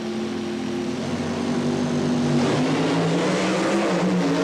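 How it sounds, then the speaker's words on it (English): A methanol-fuelled supercharged funny car and dragster at a 1977 drag race give a loud, continuous engine roar with steady droning tones that shift upward in pitch, heard alone without talk. "that classic struggle between funny car and dragster, both of them utilizing methanol for fuel, supercharged engines"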